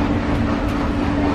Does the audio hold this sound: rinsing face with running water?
no